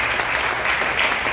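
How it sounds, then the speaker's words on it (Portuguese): A church congregation bursts into dense, steady applause in unison, the clapping loud and continuous throughout the short burst with no voices rising above it. "Uma salva de palmas para Jesus."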